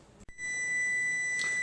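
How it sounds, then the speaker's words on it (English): Electronic kitchen timer going off in a home kitchen beside a pot of boiling green beans, a steady high-pitched beep tone sounding after a brief click, fairly clear over faint room noise. "There's my timer going off"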